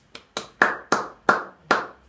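One person claps their hands six times in a slow, even rhythm, each clap sharp and close, with a brief ring after it and silence between.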